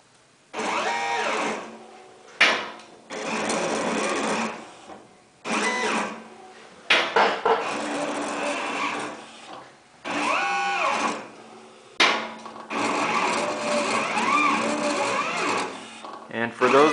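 A Torchmate 2x4 CNC plasma table does a dry run with the torch attached, its motors buzzing and whirring in repeated bursts of several seconds with short gaps between them.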